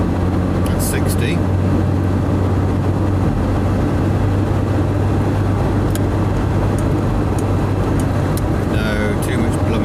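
A Skoda Favorit hums along in traffic with a steady low engine drone and road rumble while its driver tries to get up to speed, with a person talking over the noise.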